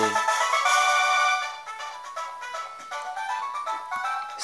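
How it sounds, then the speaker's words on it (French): Short electronic synth tones warble and chirp in quick succession, bright and buzzy like a retro game creature cry, ending in a few choppy bursts. "J'aime bien les 2 notes de synthé pour faire le cri d'un Pokémon."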